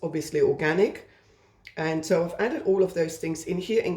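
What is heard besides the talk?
No distinct noise like a dog, phone or traffic.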